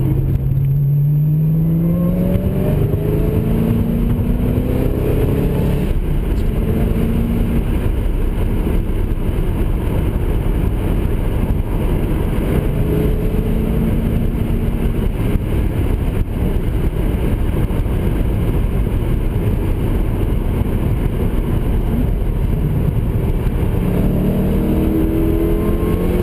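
A big car accelerates hard at high speed through its gears, a loud continuous engine roar with rising revs and shifts, heard from inside the cabin, steady and unbroken.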